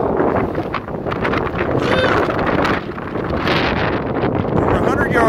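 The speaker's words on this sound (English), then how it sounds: "It's supposed to be up to 65-mile-an-hour wind gust." Strong gusts of wind buffet an outdoor microphone at an airgun shooting range, a loud, continuous roar that surges and eases in waves, with brief faint voices under it.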